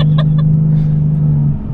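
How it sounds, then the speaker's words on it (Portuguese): Nissan 370Z Nismo pulling up a steep hill, a strong, steady engine drone close by inside the cabin, with a few brief knocks early on and a slight drop at the end. "Ainda bem que força não falta pra esse motor."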